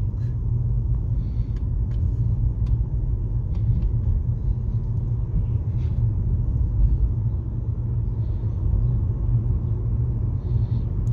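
A car driving along a road in Ibiza gives a steady, loud low rumble of engine and tyre noise from inside the cabin, continuous throughout with faint scattered clicks and rattles above it.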